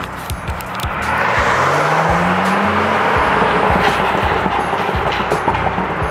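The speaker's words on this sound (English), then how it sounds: "This thing burbles a really long time," A BMW with a Bootmod3 tune, heard from inside with the windows down, revs its engine in a rising roar as it accelerates. Crackling exhaust burbles and pops follow, loud and close.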